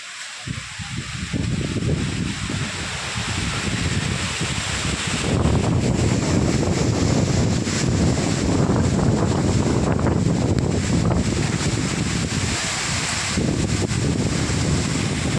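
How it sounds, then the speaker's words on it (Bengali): Strong gusting wind roars steadily into the microphone for the whole stretch, a loud, rough, buffeting rush with no talk, as trees are battered outdoors. "আমি তো ফোন কিছুতেই ধরে রাখতে পারছি না, এতটাই জোরে হাওয়া হচ্ছে"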